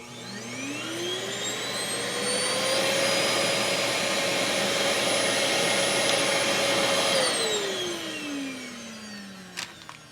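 A Simplicity S36/S38 vacuum cleaner, just repaired, spins up with a rising whine, runs at a loud steady roar, then winds down as its motor pitch falls, with a small knock at the end.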